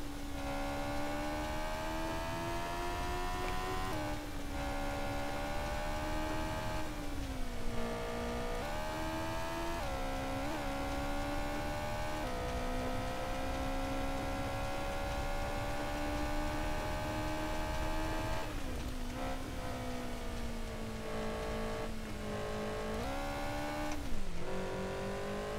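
A rally car in the Rally Championship 2000 video game drones steadily at high revs, its engine pitch dipping and climbing with each shift and corner, continuous and without talk.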